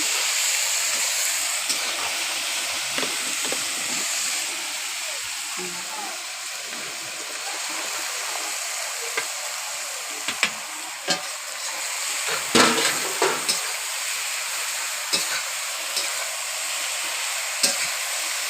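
Fish fat frying in a pan with onion and potato, a steady broadband sizzle and hiss running throughout, with scattered crackles and stirring clatter on top, loudest around the middle.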